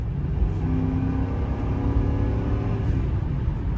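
A stock 2004 Lincoln Town Car's V8 pulls steadily under acceleration from inside the cabin, a dense low rumble with faint rising engine tones, heard close and continuous with no talking over it.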